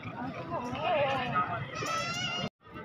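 A goat with two kids bleats repeatedly at a busy livestock market, wavering cries close by over crowd chatter and voices, stopping abruptly near the end.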